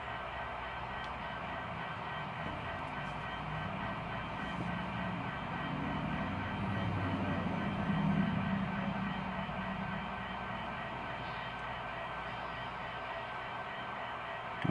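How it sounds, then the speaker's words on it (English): Big Boy 4015 steam locomotive hauling a passenger train away from a station, a steady low rumble of rolling wheels and machinery that swells slightly midway, heard from a short distance. "we're going to see our passenger train depart the station"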